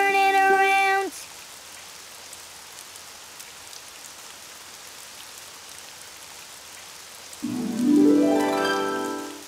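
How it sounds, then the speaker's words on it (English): Steady rain falls outside as a soft, even hiss that runs the whole way through, with tonal musical sounds at the start and end. "it's raining outside"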